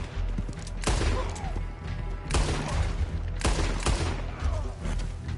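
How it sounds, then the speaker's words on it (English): Several loud, sharp gunshots from Red Dead Redemption 2 Online, spaced about a second apart with booming echoes over a low background hum. "somebody's coming behind us, shooting"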